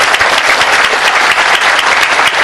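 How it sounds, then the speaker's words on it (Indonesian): Loud, dense audience applause at a gathering welcoming guests, steady clapping from many hands filling the room without pause from start to finish. "Selebihnya kita tepuk tangan dengan penuh rasa syukur atas kehadiran tamu-tamu kita ini"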